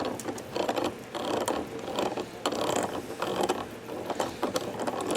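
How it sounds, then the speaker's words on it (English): Dry mechanical clicking and grinding repeats steadily as a magnetic generator shaft is turned by hand, a close, ratchety cogging that pulses in uneven bursts throughout. "there's still some cogging in there, but you can at least now turn it with your hand"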